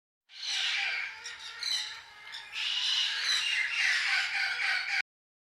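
Harsh seagull squawks, several overlapping shrill calls in a continuous raucous burst lasting about five seconds, close and loud, with no voices over them.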